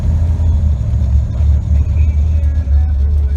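An OBS Chevy truck's small-block engine runs steadily under held throttle, a loud, continuous low rumble close by with no pauses or breaks.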